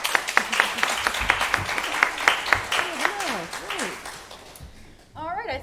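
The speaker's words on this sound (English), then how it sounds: "let's give a round of applause for Rebecca" Audience applause at a meeting brunch: a round of clapping at moderate volume that fades over several seconds, with voices talking and calling out over it.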